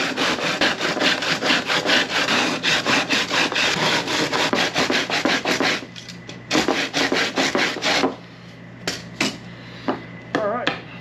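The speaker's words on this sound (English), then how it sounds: "Hand sander." Hand sander working the body line of a custom console for a 1967 car in a garage, rasping in steady back-and-forth strokes for about eight seconds, then slowing to scattered short rubs, close and loud with no talk.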